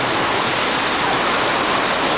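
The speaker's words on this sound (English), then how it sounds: "it's a flash flood and it's headed straight for our tram" Loud, steady roar of a staged flash flood on the Universal Studios Hollywood tram tour, rushing water like a torrent pouring down, broadband and continuous with no breaks.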